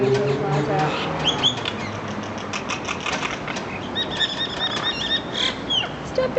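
Birds fighting with rapid flapping wings, a dense, scratchy flutter running throughout with occasional squawks and chirps, mixed with people talking and exclaiming.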